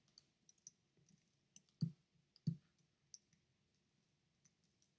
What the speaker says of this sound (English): Whoops, I was clicking the wrong button.